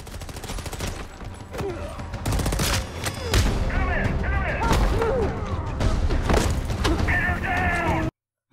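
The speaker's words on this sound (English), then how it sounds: "4 or 5 guys and they can't shoot the shit out of Dolores" Gunfire from a Westworld episode scene, rapid bursts of rifle and shotgun shots layered with rattling volleys and a voice shouting, loud and dense until an abrupt cutoff.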